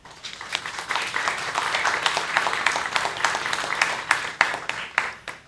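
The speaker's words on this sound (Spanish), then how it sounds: "un aplauso para nuestra vicedecana" An audience at a university humanities faculty event applauds the vice-dean with steady, dense clapping that swells and then tapers off over several seconds, with sharper individual claps standing out near the end.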